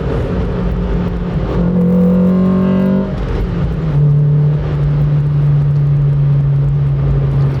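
A 2000 Honda Civic Si (EM1) engine drones steadily from inside the cabin, its pitch rising and falling as the car accelerates and eases through corners.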